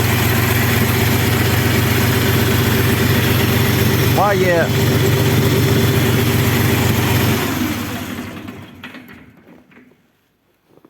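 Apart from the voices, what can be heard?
tractor engine idling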